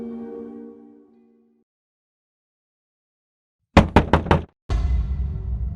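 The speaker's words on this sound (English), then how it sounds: "The parents heard a knock on their door." A door is knocked on several times: a soft tonal sound fades, then after silence come four sharp, close knocks in quick succession, followed by a sustained rustling noise.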